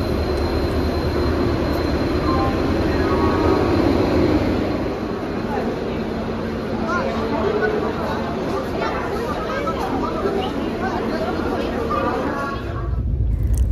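The Howrah Puri Superfast Express pulls into a station platform, a continuous rumble of wheels and carriages with a brief squeal, as station chatter and voices carry along beneath it.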